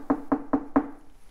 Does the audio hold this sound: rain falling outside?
no